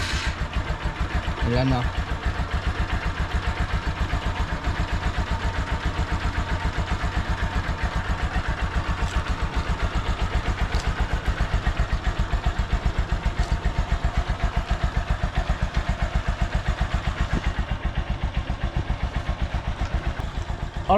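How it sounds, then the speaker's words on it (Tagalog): Honda Supremo motorcycle, long stored, firing up on the electric starter then settling into a steady rhythmic idle close by, with someone talking over it. "isang push lang natin ng electric starter, umandar naman agad yung ating Honda Supremo"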